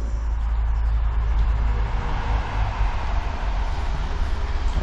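A train roars steadily through a tunnel, a dense, continuous low rumble that fills the enclosed space without pause or voices.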